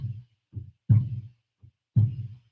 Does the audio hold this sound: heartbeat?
yes